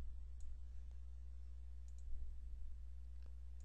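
A few faint, isolated computer mouse clicks sound at scattered moments over a steady low electrical hum, with no talking.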